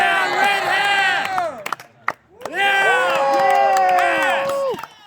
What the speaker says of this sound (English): Let's cheer real loud this time.